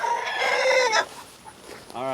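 Backyard chickens cluck and squawk close by in a loud, busy flurry, followed by a brief lull and a short harmonic call near the end.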